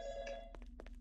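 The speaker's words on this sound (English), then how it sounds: "Phone's ringing again." An old-style phone bell rings inside a Garry's Mod Five Nights at Freddy's game, a bright ringing burst followed by a few soft knocks, fairly faint over a low hum, with no voices.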